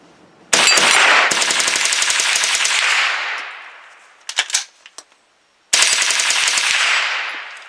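Rapid bursts from a Palmetto State Armory AR15 in .22 with a binary trigger, loud and close, with two long strings of fast shots, a few scattered single cracks between, then another rapid string.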